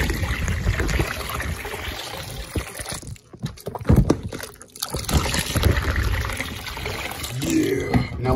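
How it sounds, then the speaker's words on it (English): An iPhone is plunged into water with a loud splash and churning, bubbling wash, followed by a dip into near quiet and then renewed sloshing and dripping close to the device. "Now let's do the ultimate splash dunk"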